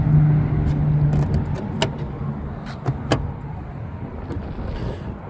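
Door lock actuators on a Lexus LX470 clunk a few times in quick succession, sharp and close, over a low idling hum and faint movement noise.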